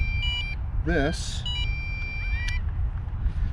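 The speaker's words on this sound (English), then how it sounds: "the controller is beeping because it's not talking anything" Controller of an MJX Bugs 6 drone beeping after the drone is unplugged: short high electronic tones in bursts around a warbling sweep, with a voice speaking over a steady low background hum.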